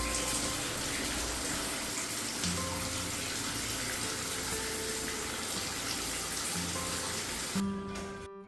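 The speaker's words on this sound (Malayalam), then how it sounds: "അപ്പോൾ ഞാൻ കുളിക്കാൻ പോവുകയാണ്." Water running from a tap during a cold-water bath, a continuous splashing gush that holds steady before stopping abruptly near the end, close and alone without talk.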